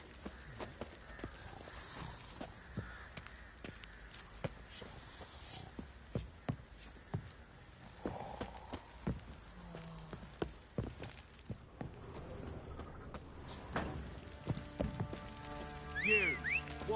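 Horse hooves clip-clop steadily in The Witcher 3 Next-Gen on PS5, the even footfalls running at moderate volume over a busy bed of game ambience with faint voices.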